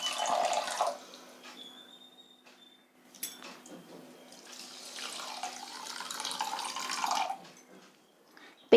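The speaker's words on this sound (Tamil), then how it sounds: "அப்போ இது முழுகிற அளவுக்கு மட்டும் நம்ம தண்ணி விட்டுக்கலாம்" Water is poured into a pan of sugar for corn flour halwa, two splashing streams close by separated by a quieter pause, with a faint metallic clink in between.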